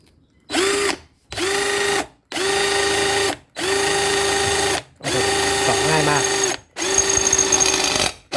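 An iMax IMCD-20GT cordless drill whirs in six bursts of a second or so each, separated by brief pauses, loud and close.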